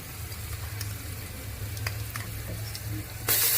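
Ginger garlic paste frying with mutton bones in a pot for bone soup, a steady close sizzle with a low bubbling rumble beneath, light stirring scrapes, and a sharp burst of louder hissing near the end.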